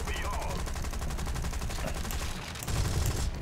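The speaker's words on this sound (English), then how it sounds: "Cannon rounds are back." Rapid aircraft cannon fire in War Thunder, a loud sustained burst of evenly spaced shots that swells slightly near the end, with no talking over it.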